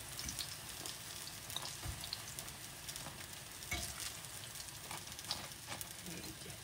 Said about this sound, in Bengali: আরও কয়েকটা ভেজে নেব।